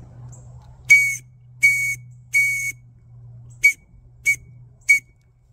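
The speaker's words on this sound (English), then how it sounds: "So we could signal by using Morse code SOS" Signal whistle blown in the Morse pattern for SOS: three long blasts followed by three short sharp toots, loud and clear over a steady low hum, with no voices.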